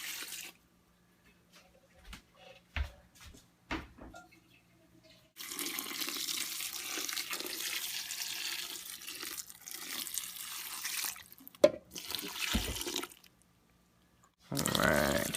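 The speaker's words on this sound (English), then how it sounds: "just adding the last of my filtered water here" Filtered water is poured into a pan, a steady splashing pour after scattered clinks and knocks of handling, then a short gap and another pour.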